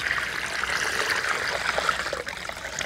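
Water runs in a steady close trickle into flour for Kerala parotta dough, an even pouring stream lasting throughout with no break.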